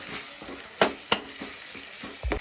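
A ground ginger-garlic paste sautés in a pan for an okra vegetable rice dish, a continuous close sizzle and crackle broken by a few sharp scraping clicks of stirring, with no talking.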